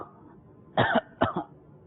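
A person clears their throat twice in quick succession, short harsh bursts heard close against quiet room tone, as done during prayer.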